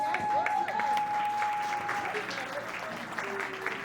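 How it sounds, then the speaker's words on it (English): Applause from a crowd at a networking dinner, a steady patter of clapping filling the space, with a voice and a thin tone briefly over it near the start. "Can I get a round of applause?"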